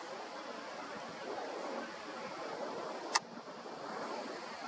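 Wind blows steadily across an outdoor night-time telescope site, a broad continuous rush with one sharp click partway through.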